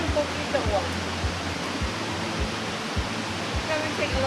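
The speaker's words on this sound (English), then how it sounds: "This is the waterfall, not the" A rainforest waterfall near Arenal Volcano, Costa Rica, roars as a steady, broad rush of falling water, with soft low thuds recurring every half second or so beneath it.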